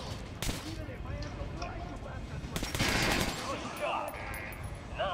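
Submachine gun fired at a shooting range in Metro Last Light Redux, with bursts of rapid shots blending into dense game noise, while a person talks over the firing.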